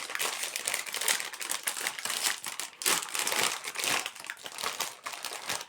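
Crinkly wrapping of Puff Rainbow marshmallow biscuits is handled and torn open up close, producing dense, continuous crackling and rustling without talk.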